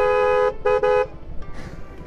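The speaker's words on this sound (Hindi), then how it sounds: "इतना बड़ा हॉर्न लगा है ना," A loud car horn blares twice, a long tonal honk then a shorter one, followed by road noise and traffic rumble.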